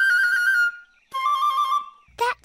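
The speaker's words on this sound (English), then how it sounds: "That sounds like a bird." Cartoon bird call in a children's animated show, two long trilling, whistle-like tones separated by a short pause, then a brief higher chirp, clear and close with no talking.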